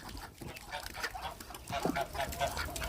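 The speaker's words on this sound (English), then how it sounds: "don't stand on the little duckies" Ducks quack and honk close by in a farmyard stampede, a busy overlapping chorus of short calls with a louder cluster near the end.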